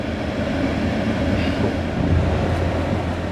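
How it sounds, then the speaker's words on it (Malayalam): A double-decker train rolls past on a neighbouring track in Slovenia, a steady rumble of wheels and carriages at close range, with no talk over it. "മറ്റൊരു പാളത്തിലൂടെ ഒരു ഡബിൾ ഡെക്കർ ട്രെയിൻ കടന്നു പോകുന്നു"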